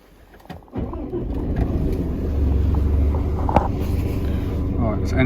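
A Mercedes truck diesel engine with an exhaust emission fault starts and idles in a workshop during a test with an air extractor system, its low rumble building and holding steady as people talk.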